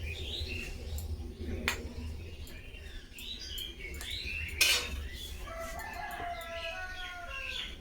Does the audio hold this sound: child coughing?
no